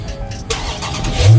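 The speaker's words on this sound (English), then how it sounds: "Okay, now start the vehicle." A car engine starting after a Compustar remote security system is disarmed. A short crank gives way to a low, rising engine roar near the end of the clip, heard close and loud.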